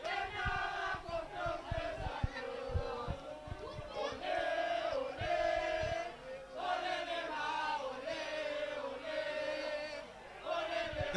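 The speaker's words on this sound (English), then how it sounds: "The crowd roars" A crowd at a club rugby match between Progress RFC and Young Good Hope roars and chants in a sustained, swelling wall of voices that rises and dips, with a commentator speaking over it.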